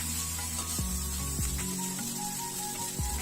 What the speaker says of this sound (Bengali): পেঁয়াজ দিয়ে এটা একটু নাড়াচাড়া করে এবার দিয়ে দিলাম কুচি কুচি করে রাখা পাতাকপি